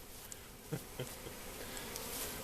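A swarm of honeybees hums in a steady, dense buzz, fairly faint, with a few soft knocks near the start.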